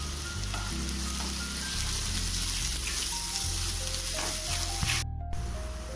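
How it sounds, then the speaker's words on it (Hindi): Onion and pointed gourd seeds fry in a pan with a steady, close sizzle and occasional stirring, while soft tonal background music plays throughout. "तो चलिए इसे अच्छे से भून लेते हैं थोड़ी देर।"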